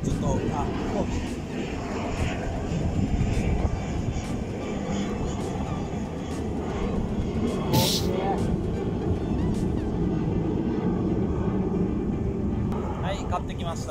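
An airplane flies overhead on a hot day in Okinawa, a steady broad roar filling the whole stretch and staying fairly loud, with people talking casually underneath it.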